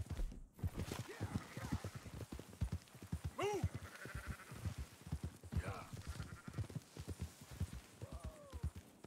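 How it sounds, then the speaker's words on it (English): Several sheep bleating here and there over steady hoofbeats and a quiet voice, fairly faint and mixed in a busy outdoor scene, from the video game Red Dead Redemption 2. "Marston, why don't you leave the sheep to me?"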